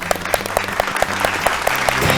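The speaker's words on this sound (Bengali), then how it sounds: "জোরে হাততালি।" Loud, steady clapping from a studio audience at a family game show as the runner-up trophy is handed over, sustained through the whole stretch with background music playing beneath it.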